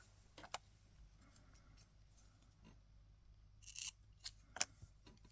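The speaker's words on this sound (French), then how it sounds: "je vais juste couper ce qui dépasse des ailes" Scissors trim overhanging paper from the edges of a collage, with a few quiet, crisp snips spaced irregularly against a hushed background, the last cuts slightly louder, and no voices.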